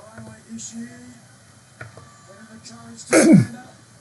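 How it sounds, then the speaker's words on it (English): A man's stifled near-sneeze while commentating a live pro wrestling tag-team match: one sudden, loud, breathy burst lasting about a third of a second, near the mic, after quieter background sound. "Sorry, I about sneezed on that one."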